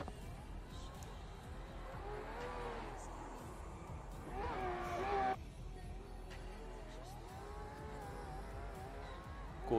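Drift cars cornering in the Finnish Drift Cup, their engines rising and falling through a tandem run with tyre noise, swelling to a louder peak midway, under faint crowd or commentary sound.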